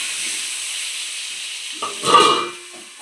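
Potatoes fry in hot oil in a home kitchen, a faint steady hiss and sizzle with a brief louder burst of crackling and stirring near the end.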